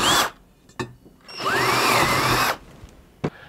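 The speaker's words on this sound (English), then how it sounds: "Take a 3 millimeter drill bit and drill through the housing." A power drill with a 3 mm bit whines up close for about a second as it bores through a metal winch housing, with a couple of short clicks before and after.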